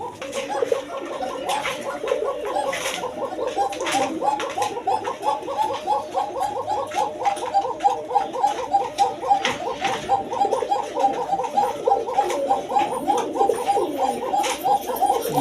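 Pigeons at a breeder's loft, kept with eggs and chicks, coo in overlapping throaty rolls, a steady, busy chorus of several birds calling close by, with no talking.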